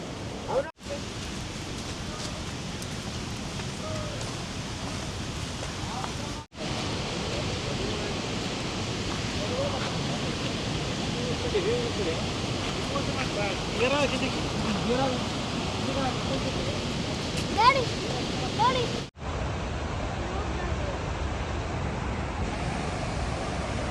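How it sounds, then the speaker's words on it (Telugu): Kuntala waterfall roars with a steady, dense rush of falling water, loud and close, holding an even wash of sound throughout, broken only by a few abrupt cuts. "కుంటాల వాటర్ ఫాల్స్ ఈ విధంగా ఉంటుంది కిందికి వెళ్ళి చూస్తే"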